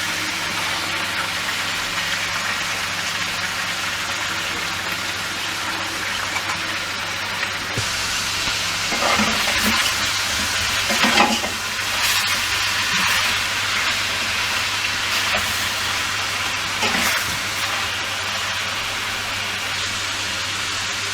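Chicken pieces frying in a karahi, turning from pink to brown as they are stirred: a steady, loud hiss of hot oil runs throughout, with occasional clanks and scrapes of stirring.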